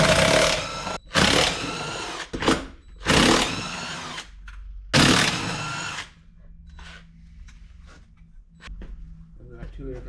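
A power tool removes the lug nuts from a Warrior's wheels in several loud, close bursts of rattling impact, separated by pauses, followed by quieter clinks and handling noises.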